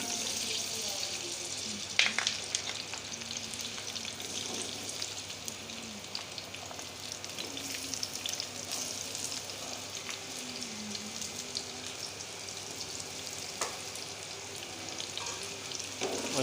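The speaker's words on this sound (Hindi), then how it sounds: "ऑयल जो है हमारा गर्म हो गया। अब हम इसमें डालेंगे आलू" Potatoes fry in hot cooking oil, giving a steady, even hiss like light rain, with an occasional faint pop over the continuous sizzle.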